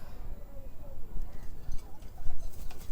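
Pigeons coo softly in low repeated murmurs, with light rustling and background noise.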